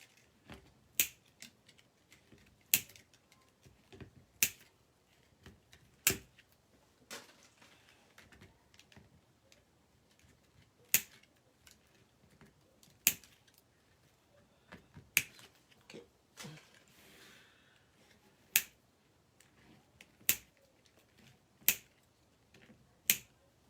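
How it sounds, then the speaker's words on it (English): Scissors snipping zip ties off a handmade Canadian flower wreath, a series of sharp isolated clicks and snips spaced a second or two apart in a quiet room, close and crisp, no voices. "I'll show you how I folded the petal again after I cut my zip ties."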